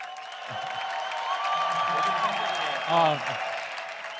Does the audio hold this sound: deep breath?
no